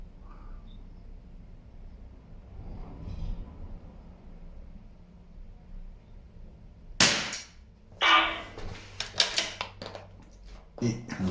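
Shots from a CZ 452 rifle firing Geco ammunition at a target 50 m away. A few sharp, fairly faint cracks and impact snaps come in a cluster after a quiet stretch with low background noise.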